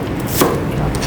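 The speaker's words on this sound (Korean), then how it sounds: "양파도 그냥 채 썰듯이 썰어도 되고요." A knife slices through an onion on a cutting board, cutting it into thin strips with a close, crisp chop near the middle and lighter cuts around it.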